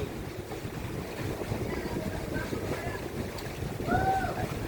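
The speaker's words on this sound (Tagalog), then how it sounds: "Eh, lakas ng hangin man." Steady, blustery wind roars across the microphone in a continuous low rumble, with faint bird-like chirps near the end.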